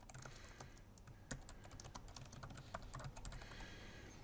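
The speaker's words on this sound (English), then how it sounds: "I'm just going to type in here" Someone types on a computer keyboard, a steady run of close, quiet key clicks and taps with no talking.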